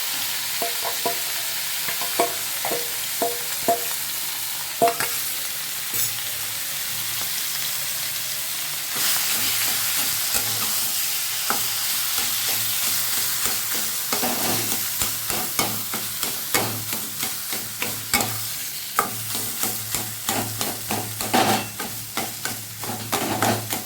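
Sliced bitter gourd (karela) frying in a pan for a Bengali potato dish, with steady oil sizzle throughout and repeated sharp scraping knocks of a spatula stirring, growing busier and more rhythmic toward the end.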